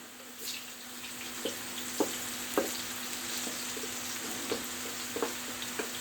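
Peppers fry in a pan, a steady soft sizzle with occasional light clicks and scrapes as they are stirred, quiet and close, with no one talking.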